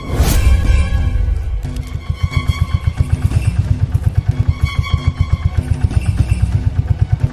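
Motorboat engine in an animated cartoon, starting with a loud burst and settling into a steady, rapid rhythmic chugging that stays strong and close throughout, with no talking.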